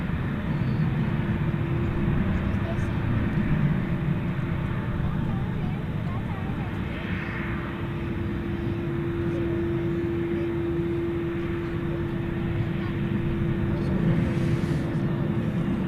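At night an Airbus A330-300 airliner bound for Madrid rumbles steadily in the distance at an airport, with a sustained engine tone and broad low roar running the full length.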